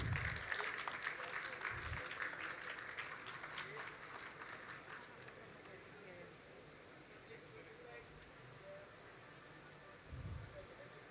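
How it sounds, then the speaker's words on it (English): Applause from a conference audience at a world conclave, a broad wash of clapping that starts fairly strong and slowly fades over several seconds, with low thumps and faint background murmur. "Ladies and gentlemen, a big, big round of applause, please."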